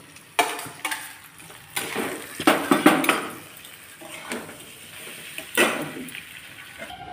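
Vegetables tipped into fried onions in a metal pan, giving a series of clattering knocks and scrapes of utensil on metal in irregular bursts, close by, with a faint sizzle underneath.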